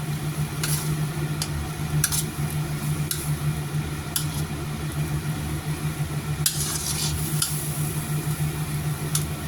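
Curry paste pounded with fingerroot is stir-fried with saba fish meat for a coconut-milk fish curry, giving a steady, close sizzle with scattered clicks and scrapes over a low hum.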